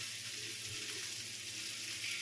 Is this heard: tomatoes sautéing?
yes